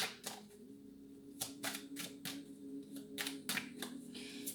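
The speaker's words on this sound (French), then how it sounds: "Je vais tirer toutes les cartes." Tarot cards being drawn and shuffled close by, a run of crisp slaps and riffling snaps in irregular bursts over a steady low hum, with no talking.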